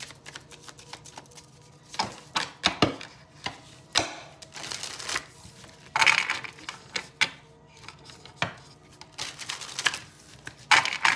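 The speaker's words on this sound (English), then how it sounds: "It's a new deck, so they're kind of sticking together, so just want to get a couple extra shuffles in here" A new, slightly sticky deck of cards is shuffled in repeated bursts of riffling and flicking, quiet and close, with short pauses between shuffles.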